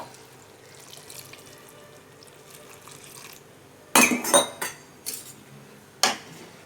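Water is poured into a pot of chickpea curry, a soft, faint trickle at first, followed by a few sharp metallic clanks of a vessel or utensil against the pot; no talk.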